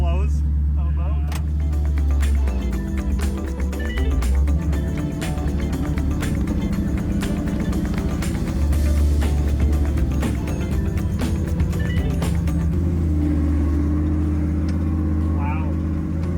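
Interior of a show car riding on new Corvette suspension, with a steady low road and engine rumble throughout and occasional knocks, while a person talks over it.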